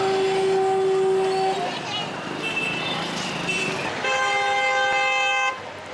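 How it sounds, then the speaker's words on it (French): Car horn honking loudly on a street in India, with a long blast, a pause, then a second sustained honk over steady traffic noise. "Pourquoi il me klaxonne?"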